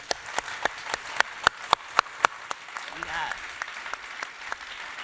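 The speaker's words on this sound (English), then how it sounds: "Will you clap your hands joyfully if, in some area of your life," An audience claps in rhythmic unison, about eight sharp, evenly spaced claps, before fading into murmuring and a brief spoken reply.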